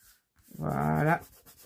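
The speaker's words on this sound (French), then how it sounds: "On gomme bien les traces de colle. Si c'est pas sec, ça se gomme au doigt." A finger rubbing wet glue residue off paper in a papercraft album: one short, close squeaky rub lasting under a second, with quiet surroundings before and after.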